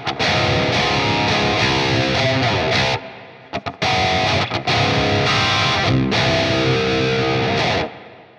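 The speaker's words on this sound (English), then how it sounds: "move on to the final block in the signal chain, the Nameless Reverb" Distorted electric guitar through a Fortin Nameless Reverb effect on a Quad Cortex at default settings plays loud chords and riffs, with brief gaps where reverb tails ring out, then a final fade.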